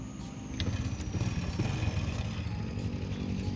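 A used car's engine turns over and settles into a rough, steady idle, a low, rumbling drone with a faint rattle, recorded close outdoors with no talk.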